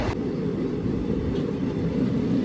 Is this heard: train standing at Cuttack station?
yes